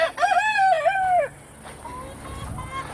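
A rooster crows loudly nearby in a rising, wavering call, followed by softer clucking from hens at a backyard coop where eggs are being hatched.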